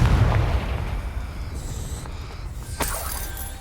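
The Confringo spell bursts in Hogwarts Legacy with a loud, rumbling explosion that fades into debris crackle, followed by a sharp shattering crack and a bright ringing tail.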